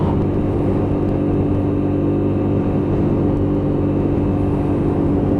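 Lexmoto LXS motorcycle engine held at open throttle on a hill climb, a steady, loud, droning rumble that stays constant throughout, with wind noise.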